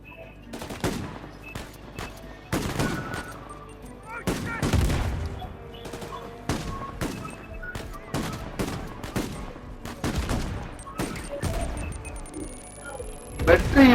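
Gunfire in the PS5 game Uncharted: Legacy of Thieves, with rapid bursts and scattered single shots cracking repeatedly throughout, mixed with speech.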